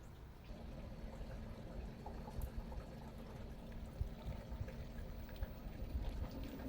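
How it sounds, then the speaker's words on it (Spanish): Water rushes and gurgles steadily inside an LG washing machine running a rinse cycle with foam draining out, a continuous churning, splashing flow heard up close. "a mí lo que me gusta hacer es activar el lavado para enjuagar todo el sistema"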